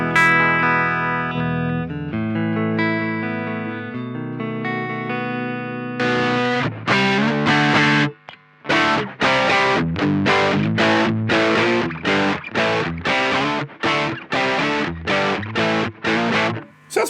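Electric guitar distorted through a Crazy Tube Circuits Sidekick with its speaker simulation engaged: a few held chords, then a fast run of tight, palm-muted chugging chords in a steady rhythm, loud and close.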